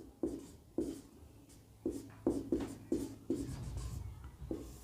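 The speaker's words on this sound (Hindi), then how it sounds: "पूरा मैं नहीं लिखता हूँ, थोड़ा थोड़ा लिखूंगा।" Chalk or marker writing by hand on a board during a lecture, a series of short scratchy strokes in uneven bursts, close and fairly quiet with no talk over it.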